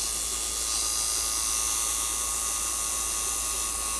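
A chisel on a wood lathe turns a chess bishop, giving a steady high whine with a constant motor drone and a fine, even scraping that never lets up.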